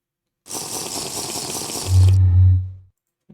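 Water pours and splashes steadily as a character drinks in Minecraft, a close hissing flow that ends with a brief low gulping tone, with no voices.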